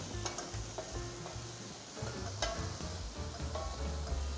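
Onions and carrots stirred and sautéed in a pot for a Korean home-cooking dish, with a steady close sizzle and repeated scraping stirs throughout, no talk.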